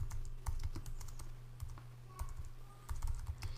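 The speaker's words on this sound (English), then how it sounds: "I'll give it a title and type in some information here." Quiet typing on a computer keyboard, with a brisk, irregular patter of light key clicks close by and no talking.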